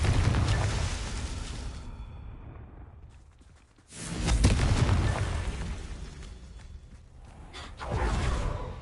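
A Confringo explosion spell in a video game sets off a loud booming blast with a rushing whoosh, decays over a few seconds, then a second big explosive burst swells, followed by a third rising blast at the end.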